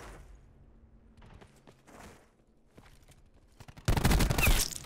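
Gunfire in a shooter video game: a few scattered distant pops and short bursts through the first seconds, then a loud, dense volley of rapid shots near the end.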